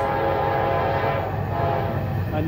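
A northbound Norfolk Southern manifest freight train with a Dash 9 lead locomotive rumbles past outdoors, a loud steady low roar with sustained horn-like tones running throughout.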